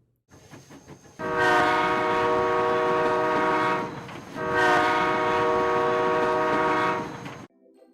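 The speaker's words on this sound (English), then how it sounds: "The train you just heard was giving 2 long blasts" Two long, loud blasts of a train horn, each sustained for a couple of seconds with a short gap between, close by.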